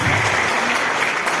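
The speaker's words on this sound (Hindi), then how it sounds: "एक बार जोरदार तालियों से इनका स्वागत करूं" Loud applause fills a political event on the environment, a dense, steady wash of clapping from a crowd that holds at full level throughout without any talk over it.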